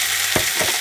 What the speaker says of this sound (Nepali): पहिले सुरुमा चाहिँ काँचो चिकनलाई चाहिँ फ्राई गरौँ है।